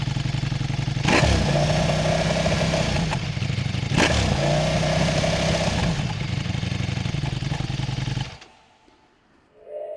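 A Ducati Panigale V4S motorcycle engine runs loud and steady for about eight seconds, with two sharp throttle blips near the start and middle, then cuts away to near silence.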